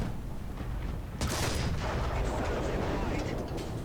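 A tank's main gun fires in the War Thunder video game with one loud booming blast, followed by a long rumbling tail and ongoing battlefield noise.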